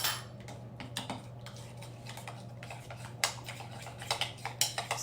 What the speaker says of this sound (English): All you're going to do now is stir that up.